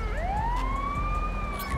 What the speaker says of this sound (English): Ambulance pulling up, picking up that body.